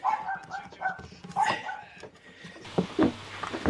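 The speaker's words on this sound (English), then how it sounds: "Can you hear little Maya barking words of encouragement at me?" A small dog barks and yips in a short series of sharp, close calls. There are irregular gaps between the barks and quieter handling sounds beneath them.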